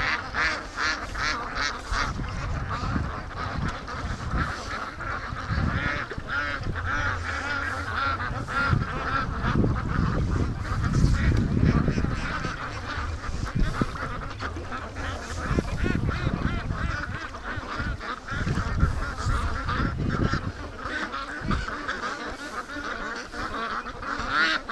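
Free-range ducks quack and honk near a swamp, a busy chorus of overlapping calls from several birds at close to middle distance, continuous throughout with rustling movement underneath.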